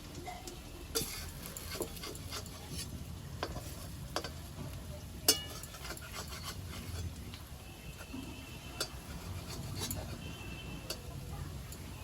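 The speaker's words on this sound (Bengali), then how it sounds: "এইভাবে বড়া ভাজলে অনেকগুলো বড়া একসাথে ভাজা যায়।" Oil crackles and sizzles quietly and steadily as coriander-leaf fritters fry, with occasional light ticks and taps from a utensil.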